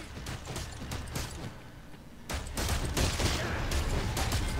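Gunfire in Dead Space 3 as rapid bursts of shots, sparse at first, then a dense sustained volley from about two seconds on, loud and close with no talk over it.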